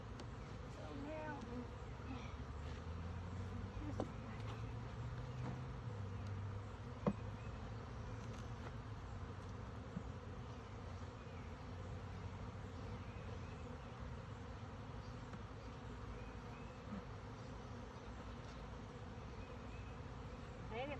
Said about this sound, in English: just has frames with a few bees flying around, crawling around on it.